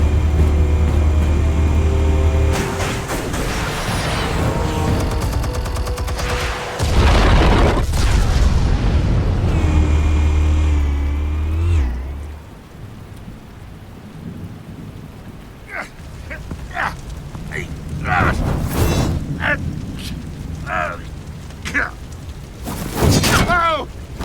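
Explosive charges detonate in Batman: The Telltale Series, heavy rumbling booms early on, then debris and scattered impacts under a tense game score, with voices speaking intermittently.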